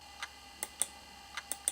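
Faint, irregular sharp clicks, about six in under two seconds, over a quiet steady hum, from the hard drive of a 27-year-old Toshiba Libretto 20 laptop ticking.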